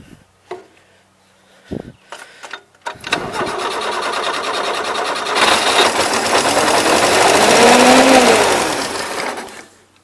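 A 1977 Gravely GMT 900 tractor engine sputters and cranks in short bursts, then catches and runs close by, rising to a loud, racing roar near wide open throttle before dying away.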